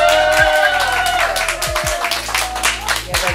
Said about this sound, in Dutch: Applaus toch!